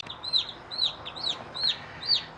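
A newborn baby chick, freshly hatched after being shrink-wrapped in its shell, chirps close by in a steady run of about five loud, sharp, downward-sweeping peeps at an even pace, with no talking.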